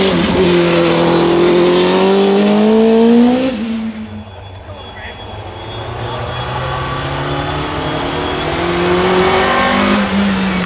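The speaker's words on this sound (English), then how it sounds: "This is Ethan Faulkner running minimum wheel spin, maximum traction." A race car climbs the Craigantlet hill climb course, its engine revving loud and close at first, then dropping away and building again as it accelerates into the distance.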